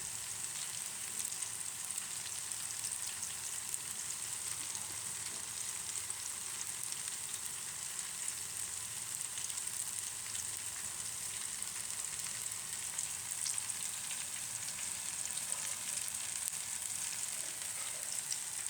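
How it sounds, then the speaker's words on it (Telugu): Food frying in hot oil until golden gives off a steady, dense sizzle and crackle that holds evenly from start to finish, close by and with no talking over it. "బాగా దోరలుగా వేగాలి"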